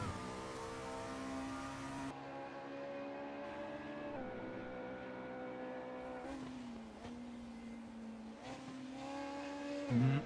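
Volvo race car in a sim racing game at Donington, its engine a steady droning whine with gear changes and shifting pitch, heard alone with no talk.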